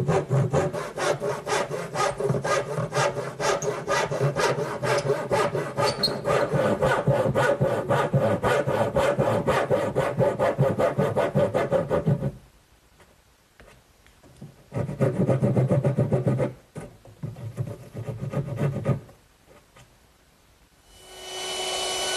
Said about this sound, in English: to do that, I'm going to use my back saw